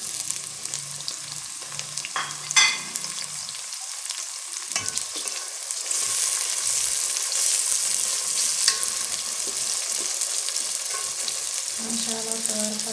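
Tomatoes tipped into onions frying in a pan: a steady close sizzle with a metallic clank early on, the frying growing louder and hissier for the second half, with no talking.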